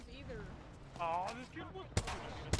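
Gunfire in Apex Legends comes as two sharp, punchy shots near the end, while a person talks and laughs over the game audio.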